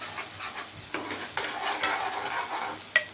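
A ground paste for paneer butter masala is stirred in a hot pan (kadai), with a steady soft sizzle and repeated scraping strokes of the spoon, plus a sharp clink near the end.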